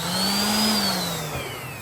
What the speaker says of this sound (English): Using an orbital sander, 150 grit sandpaper.